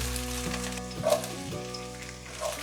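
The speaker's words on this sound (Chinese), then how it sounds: "现在刚好可以用得上，放入锅内，快速拌炒" White beech mushrooms are stir-fried quickly in a wok: a steady close sizzle with the clack and scrape of a spatula tossing them a few times, no talking.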